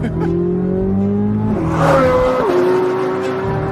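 A loud, close brand-new Corvette Z06 engine revs hard, its high tone climbing and dropping with quick gear shifts, smooth and shrill.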